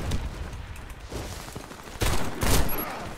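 Rapid bursts of gunfire in the online shooter Warface, with a Taurus Judge shotgun in play, crackling close and loud, with heavier volleys near the end.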